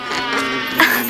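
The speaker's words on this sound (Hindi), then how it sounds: "अरे मधुमक्खियों ने आक्रमण कर दिया है, भग लो अलग अलग दिशाओं में।" An attacking swarm of bees makes a dense, steady, close buzzing drone that fills the whole brief moment, with no talking.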